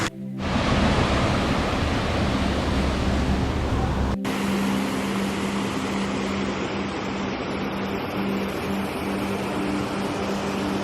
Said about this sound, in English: I hear some waterfalls.